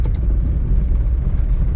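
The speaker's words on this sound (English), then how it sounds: "I'm gonna float in the second gear here." A 1987 Honda Civic Wagovan RT4WD engine hums steadily as it floats into second gear, a loud, close, continuous mid-low drone with a slight rise in revs and no voices.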